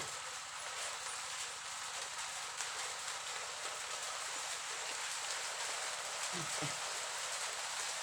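Faint, continuous patter of rain fills the background, with a brief low rumble near the end.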